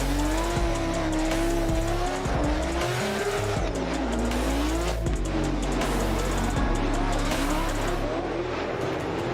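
A Formula Drift car engine roars loudly and continuously during qualifying, its pitch rising and falling as it revs, with faint tire squeal and possible voices in the background.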